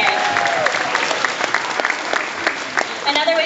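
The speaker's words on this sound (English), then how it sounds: "Let's give them a round of applause for saving the earth." Brief burst of audience applause at an African elephant show, dense steady clapping from a crowd with a voice rising over it near the end.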